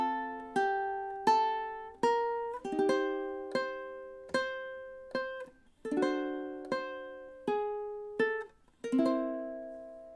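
Two measures of a song on ukulele, a steady run of about a dozen crisp strummed chords in even rhythm with a few quick double strokes, close and clear with no talking.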